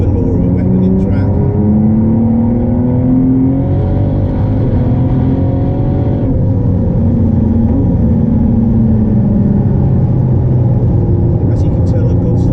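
Ford GT, the Le Mans-derived road car, driven hard on track in track mode: a loud, close engine roar with repeated rising revs and pitch sweeps, rumbling throughout.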